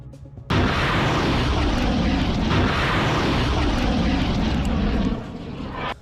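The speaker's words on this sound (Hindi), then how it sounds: "इस ड्रोन को ईलत की तरफ लॉन्च कर दिया जाता है" A military drone launched toward Eilat by fighters in Gaza drones loud and steady after a sudden start, a constant engine roar filling the air before easing off near the end.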